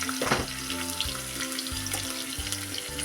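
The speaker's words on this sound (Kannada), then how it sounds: "ಎಷ್ಟು ಸೌಂಡ್ ಬರಾಕತ್ತೈತೆ ನೋಡ್ರಿ ಅದು ಒಗ್ಗರಣೆ ಕೊಡೋದು" Spice tempering sizzles steadily in hot oil on a low flame, a continuous close crackle and hiss with no talking.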